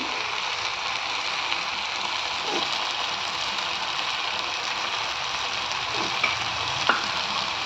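Dill leaves frying in a home-kitchen pan for a sabsige soppu and green gram palya, giving a steady, close sizzle with a few faint clicks from stirring.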